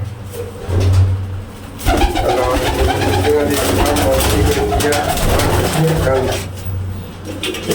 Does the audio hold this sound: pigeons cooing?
yes